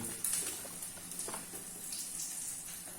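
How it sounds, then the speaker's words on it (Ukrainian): Pounded chicken cutlets fry in a preheated pan, a faint, steady sizzling hiss with small crackles and no voices. "І ось вони в нас смажаться від бивнушки."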